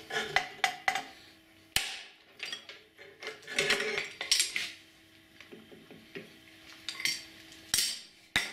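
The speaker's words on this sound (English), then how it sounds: "Gonna give her a smack with a hammer and we'll see if the puller flies off or whether the flywheel comes loose" Repeated metallic hammer blows strike a flywheel puller on a Proto-Power PP15 generator, a string of sharp clanks and rattles with ringing, uneven in spacing and loudness, close by in a workshop.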